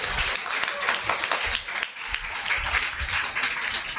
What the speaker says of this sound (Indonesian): Bisa tepuk tangan lah.